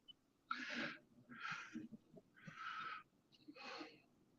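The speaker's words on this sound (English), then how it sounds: "I hear your breathing." Heavy, laboured breathing after a gym workout, four long breaths in steady succession, close and fairly loud, with faint low rustling between them.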